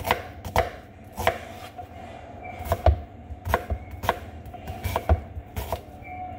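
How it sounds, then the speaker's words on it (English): A knife finely dices an onion into small squares on a cutting board, with a dozen or so crisp, evenly spaced chops, close up and with no voice over them. "But you cannot not add the onion. So, just want to get that chopped up."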